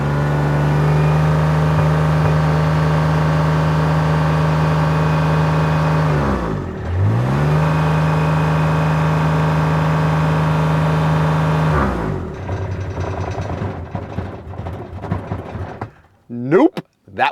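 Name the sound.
Kubota RTV-X1140 utility vehicle engine revving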